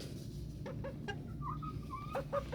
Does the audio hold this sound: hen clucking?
yes